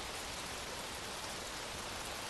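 Heavy rain falls with cold wind, a dense, steady broadband roar with no gaps, moderately loud and unchanging throughout.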